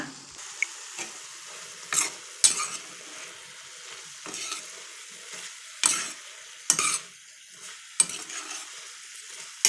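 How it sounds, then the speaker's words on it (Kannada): Eggplant frying in a pan with coriander and chilli powder gives a soft sizzle under repeated spoon stirs and scrapes, with sharp clinks against the pan at irregular moments. "ಈಗ ಅದು ಫ್ರೈ ಆಗ್ತಾ ಇರೋದ್ರೇ ಸ್ವಲ್ಪ ಧನಿಯಾ ಪುಡಿ ಎಲ್ಲ ಇಟ್ಟಿದ್ವಲ್ಲ ಅದನ್ನು ಮತ್ತು ಮೆಣಸಿನ್ಕಾಯಿ ಪುಡಿ ಹಾಕೋಣ"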